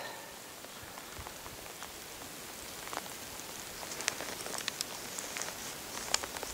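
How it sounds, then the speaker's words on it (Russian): Steady rain pattering on a surface with scattered louder drops, a continuous wet hiss without voices, outdoors by Lake Keret in wind and cold weather. "дождь, ветер, порыбачить не получается."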